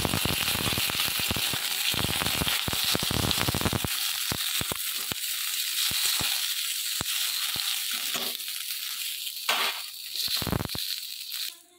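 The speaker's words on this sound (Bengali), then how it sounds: "দেখুন শিমগুলো আমি হালকা করে ভেজে নেব।" Flat beans fry in hot oil in a pan, giving a dense, steady crackling sizzle with many sharp pops and spatters, loudest at the start and thinning into scattered crackles toward the end.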